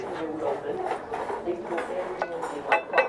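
Ceramic dishes and a small casserole dish handled on a thrift store shelf, giving several close, light clinks and knocks over a soft store background, with a voice faintly present.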